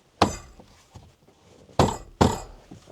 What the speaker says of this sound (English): Tap on the top corners here firmly to seat it.